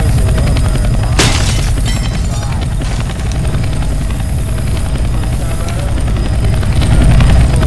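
A loud helicopter in the video game Left 4 Dead 2, at a carnival, thumps steadily throughout, with bursts that sound like gunfire mixed in.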